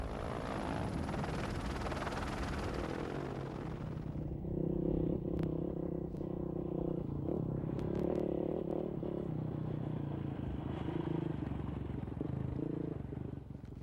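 KTM rally motorcycles racing on a speed section of the 1998 Dakar Rally, a steady loud engine drone with rising and falling revs as riders overtake one another, continuous throughout with a broad roaring wash.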